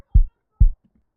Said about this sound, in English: then it sounds like this very punchy kick